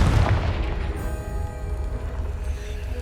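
Confringo blast spell in Hogwarts Legacy, a deep boom opening the moment and decaying into a low rumble with a faint ringing tail over soft ambience.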